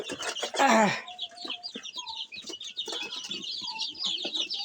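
Farm chickens run about and cluck close by, with a loud squawk early on followed by scattered clucks and chirps.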